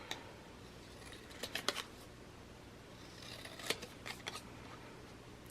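Scissors snipping out paper embellishments for a mini scrapbook album, quiet close crisp cuts coming in short irregular clusters over a faint hiss.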